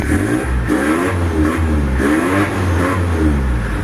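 A 1995 Toyota Mighty X pickup engine revving up and down, a loud, close mid-pitched drone that swells and falls in several throttle blips with no voices.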